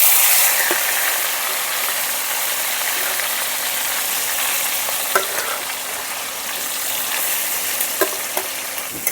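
Marinated chicken frying with whole spices in a pan, a loud, dense, continuous sizzle broken by occasional clicks and scrapes of stirring, up close with nobody speaking.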